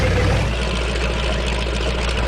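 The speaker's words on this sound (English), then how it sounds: "Now listen to that engine sound." Tank engine in World of Tanks, a deep continuous rumbling drone with a low throb, steady and fairly loud throughout.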